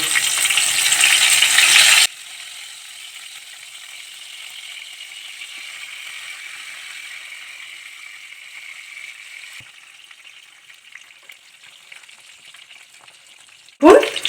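Egg-stuffed pointed gourd (potol) fries in a pan: a loud, bright sizzle for the first couple of seconds drops to a quieter, steady hiss on low heat, ending with a brief clatter.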